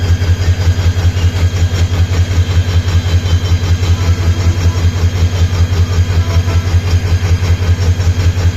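A crowded train idling at Sreepur railway station in Bangladesh, its engine giving a loud, steady low throb with an even pulsing rhythm close by, and no talking.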